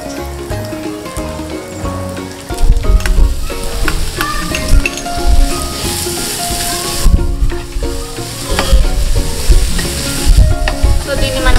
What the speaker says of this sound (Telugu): ఇప్పుడు మనం ముందుగా తరిగి పెట్టుకున్న మామిడికాయ తురుమునేద్దాం